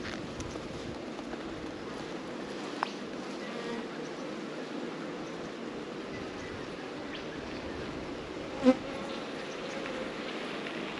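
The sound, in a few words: honeybees buzzing at open beehive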